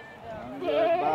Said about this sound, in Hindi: जगह पे बकरे ही बकरे हैं इंशाल्लाह।